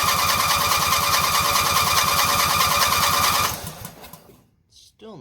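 A lawn mower engine bought at auction cranks with a rapid, rhythmic chugging for several seconds without catching, then stops, leaving quiet with a faint brief sound afterward.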